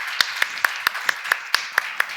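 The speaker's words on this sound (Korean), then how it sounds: "박수 한번 쳐줘요" A church congregation at a seminar clapping hands in a steady, even rhythm, about ten sharp claps at a quick pace, moderately close and without talk.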